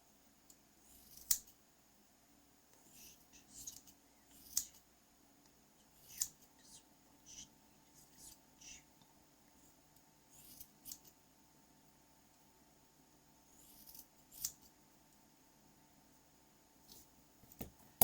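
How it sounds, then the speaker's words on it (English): Scissors make small trimming cuts, sharp quiet snips scattered irregularly, sometimes singly and sometimes in quick pairs, with near silence between them. "That is almost nicely trimmed."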